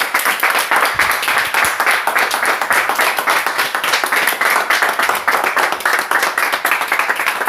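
A church congregation claps for the Lord during a French-language worship service, a loud, steady wall of many hands with quick, rhythmic strikes that carry on without pause and no talking over them.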